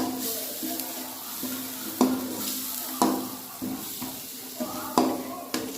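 Ground spices, crushed peanuts, fennel, cumin and garlic roast in a pan for Palanpur-style bhungla bataka, with a steady soft sizzle broken by regular scraping stirs every second or so. Light talk is heard beneath.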